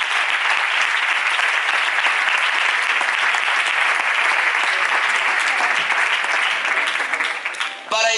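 A church congregation in Castellón applauds loudly and continuously, a dense wash of clapping close by that holds steady and drops away abruptly at the end.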